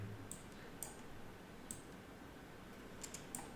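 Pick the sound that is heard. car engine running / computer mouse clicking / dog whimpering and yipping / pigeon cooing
computer mouse clicking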